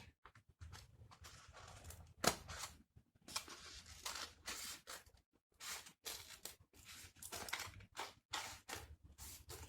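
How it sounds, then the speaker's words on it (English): Scissors trim paper up close for a Dollar Tree black and white pumpkin vignette, making a quiet series of crisp, irregular snips and rustles with short pauses between cuts. "I'm going to run my scissors up in that opening, and I'm going to trim my paper from the bottom."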